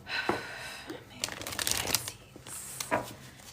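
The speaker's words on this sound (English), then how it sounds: "actually feel like pulling one of these cards first" A tarot deck being shuffled and cards pulled, quick close riffling and flicking of card stock in short bursts over a brief stretch.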